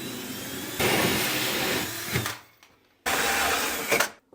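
A power drill bores a hole in a bathroom cabinet, with two sustained loud whirring runs separated by a brief stop, close by and with no talking.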